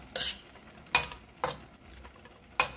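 A utensil stirs a vegetable stir-fry in a pan, four sharp scraping clacks at an uneven pace with quiet gaps between them.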